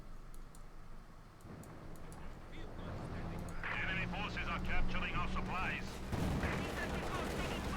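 A Panther tank fires on Soviet infantry in a Company of Heroes 2 battle, with booming cannon shots and scattered gunfire in the distance, while someone talks over the fighting throughout.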